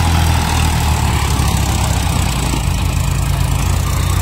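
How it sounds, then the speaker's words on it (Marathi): A tractor with a rotavator works in a pomegranate orchard, its engine droning in a loud, steady low rumble that continues without a break and without voices. "पाठीमागच्या साईडला ट्रॅक्टर वगैरे चालू आहे बघा, हे रोटर वगैरे चालू आहे मित्रांनो त्या डाळिंबामध्ये"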